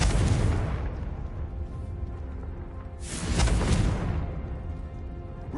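Confringo blasting spell from Hogwarts Legacy exploding, two heavy booming bursts with a rushing whoosh, the first at the start and a second stronger blast midway, each trailing into a low rumble.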